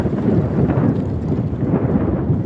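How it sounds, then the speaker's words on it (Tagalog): Strong, steady wind at sea on rough water roars across an open microphone, with a constant low rumble and broadband rush throughout, no talking. "At maalon, mahangin."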